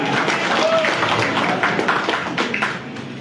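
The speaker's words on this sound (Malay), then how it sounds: "tepuk tangan siapa nak tepuk tangan" Crowd at a Perikatan Nasional political rally in Johor claps in a loud, dense burst that thins toward the end, with individual claps and a brief whistle-like tone standing out and a few voices mixed in.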